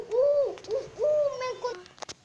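Repeated hooting calls of a cartoon owl character in a children's hide-and-seek animation, several rising and falling hoots in quick succession, fairly loud and close, ending with a couple of short clicks.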